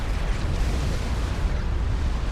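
Tactical missile strikes hitting a base in the strategy game Supreme Commander 2, a dense, continuous roar of overlapping explosions with a heavy low rumble throughout, loud and sustained with no pauses.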